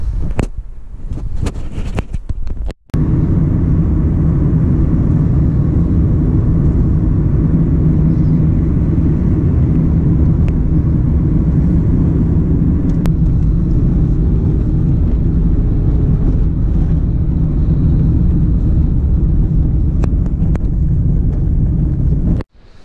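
A car on a long road trip toward the Manpupuner hike area, giving a steady loud rumble of engine and wind buffeting that runs almost unbroken for many seconds after a brief cut near the start, with no voices.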